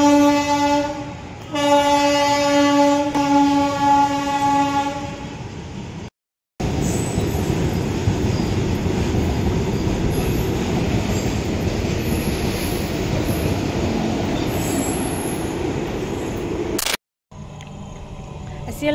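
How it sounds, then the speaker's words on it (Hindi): A freight train rolls past a railway station in India, a loud, steady rumble of wagons close by, with a train horn sounding near the start and brief cuts in the recording. "एटा मालगाड़ीटा"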